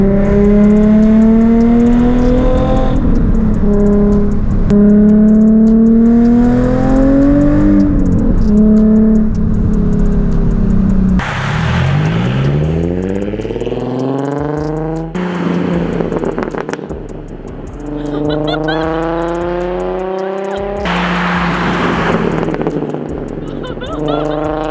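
A Nissan 350Z with a backfire tune revs hard and loud, its pitch sweeping up and down through several surges, with a deep roaring exhaust note close by.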